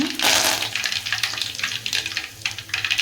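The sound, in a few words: cumin and mustard seeds spluttering in hot oil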